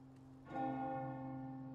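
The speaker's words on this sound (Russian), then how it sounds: "А кто звонит в колокол?" A church bell in Resident Evil 4 Remake strikes once about halfway through, its bright metallic ring swelling loudly and then holding a long humming decay over a steady low background drone.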